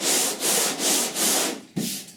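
A long Dura-Block sanding block rubbed across body filler on a 1969 C10 truck panel, five steady gritty strokes in a close, loud rhythm with a brief pause before the last stroke, no talking.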